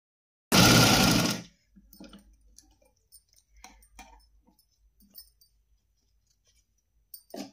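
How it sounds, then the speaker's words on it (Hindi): A sewing machine stitches the lining of a small Laddu Gopal deity dress in one loud burst about a second long, followed by quiet clicks and rustles of cloth handling. "चलिए तो तीनों साइड पर हम सिलाई लगाते हैं।"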